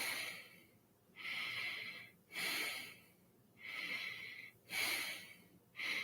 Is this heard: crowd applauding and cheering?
no